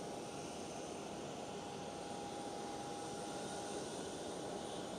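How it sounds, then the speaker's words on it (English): A Malaysia Cargo Airbus A330 freighter taxis at Amsterdam Schiphol airport with a steady jet engine roar and a constant whine, heard at a distance and alone. "Next one up is Malaysia Cargo A330, purposely built freighter."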